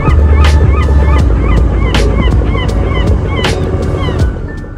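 Seabirds calling near a cruise ship off Teknaf heading to Saint Martin, with repeated short sharp cries in a steady rhythm over loud, constant wind and engine rumble.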